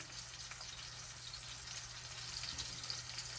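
A steak sizzles steadily in a hot pan as it cooks, a continuous close hiss and crackle of frying with no talk over it.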